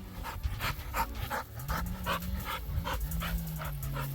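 An American Bully dog pants rapidly and steadily up close, quick rhythmic breaths throughout, with a low whine rising in the background.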